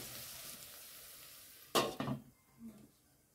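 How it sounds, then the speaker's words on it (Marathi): Sliced onion with salt stirred and sautéed in a pan on the stove, heard as a brief cluster of scraping, rustling stirs after a near-silent stretch, with no talking. "थोडं मीठ घातले आणि मस्त मिक्स करून परतून घेऊया, म्हणजे कांदा लवकर सॉफ्ट होईल"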